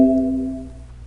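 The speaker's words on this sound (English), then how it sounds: "That sound you hear, that's every time a dialog box pops up." A single chime-like Microsoft Excel 2016 dialog box warning tone sounds at once and fades away over about a second, clear and close.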